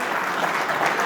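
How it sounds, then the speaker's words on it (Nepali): Dense, sustained applause from an audience at an award ceremony during an annual general meeting of a metal engineering and fabrication industry association, many hands clapping evenly throughout with no pauses. "कृपया उहाँको सम्मानमा जोरदार ताली।"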